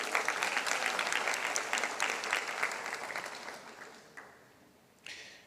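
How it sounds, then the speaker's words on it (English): An audience gives a round of applause at a foundation award ceremony, brisk clapping that gradually fades out, followed by a couple of brief sharp sounds. "Let's give her a big round of applause."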